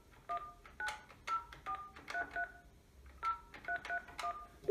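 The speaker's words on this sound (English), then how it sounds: "You then dial 9 plus the telephone number of the person you'd like to call." A Panasonic KX-NT553 desk phone on speakerphone dials out with a rapid string of short, clean DTMF beeps. The tones come in uneven clusters as the digits are pressed, with no voices over them.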